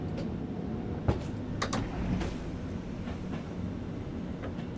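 An aggregates freight train in Train Sim World 3 slowing into a station: a low, steady rolling rumble with a few sharp metallic clicks and clanks scattered across it, fairly quiet and close.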